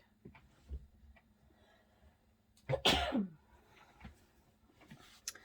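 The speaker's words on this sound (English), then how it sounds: "So I've got to sneeze, I think." A single sharp sneeze bursts out close by, preceded and followed by quiet breathing and faint background shuffles.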